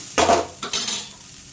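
A spoon clinks and scrapes against a pot while ridge gourd pickle is stirred and mixed, making two or three short, close metallic scrapes in quiet surroundings.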